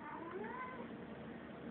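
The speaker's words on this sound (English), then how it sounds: "And that is my cat being a badass kitty rider." A cat meows in a drawn-out, wavering call lasting most of the moment, close and fairly clear over a steady background hiss, with no talking.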